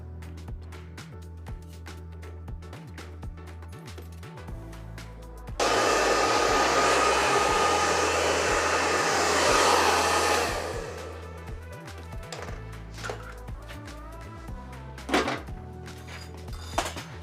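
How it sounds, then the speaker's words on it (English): A hair dryer blow-dries a client's layered A-line cut in a salon, a loud steady broadband rush that starts abruptly, holds for about five seconds and then cuts off, with faint clicks and handling knocks before and after under low background music. "Right, let's get blow dried."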